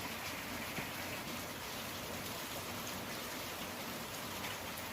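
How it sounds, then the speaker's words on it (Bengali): Steady rain falls on a rainy day, a soft, even wash of patter that continues without a break and stays faint in the distance, with no voices. "দেখো কেমন বৃষ্টি, সকাল থেকে ঝরেই যাচ্ছে।"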